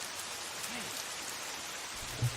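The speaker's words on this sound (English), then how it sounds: "Oh, great. It's raining." Steady rain falls in the video game Lost Odyssey, a soft even hiss that fills the whole moment with a faint low thump near the end and no talking.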